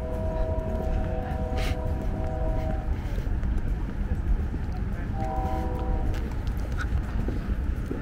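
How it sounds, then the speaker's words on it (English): A train heard from a distance near the ocean, with a low continuous rumble and two drawn-out horn blasts, one early and one later, and no talking. "Oh, the train's gonna show up here soon."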